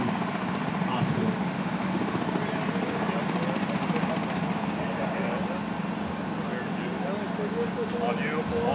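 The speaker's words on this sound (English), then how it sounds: "Patient is loaded into the helicopter and flown to the number one hospital." Medical helicopter at a staged high school prom crash simulation, a steady rotor thump and engine roar running throughout at moderate distance, with people talking under it.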